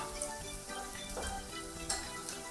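Steady crackling sizzle of chopped tomatoes and vegetables frying in hot oil, continuous and close, with a few brighter pops and spatters.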